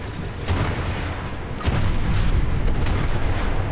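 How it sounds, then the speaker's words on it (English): Warship cannons firing a full broadside in a War Thunder naval battle, a rolling series of booming blasts that swell and build, loud and close over constant battle rumble. "Fire full broadside on this guy"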